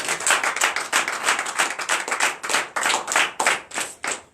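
A church congregation claps in a steady rhythm during a Sunday worship service, sharp hand claps repeating across the whole stretch, loud and close with no voices over them.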